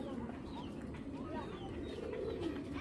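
A pigeon coos softly in repeated low, throaty phrases against a busy background of other birds and ambient noise.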